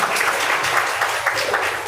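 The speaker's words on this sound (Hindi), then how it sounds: "अपने लिए एक बड़ी जोर से ताली बजाइए" Audience clapping loudly at a speech event in India, dense steady applause for the whole span with no voices over it.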